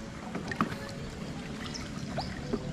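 A small wooden outrigger boat riding on open water, with soft splashing and water lapping against the hull, a few sharper knocks and slaps, and faint voices in the background.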